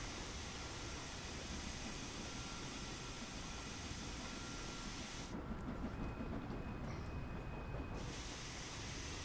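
Train arriving at a station in the Train Sim World 2 simulator, with a steady rumbling, hissing running noise throughout and a higher whine briefly appearing partway through, no talking.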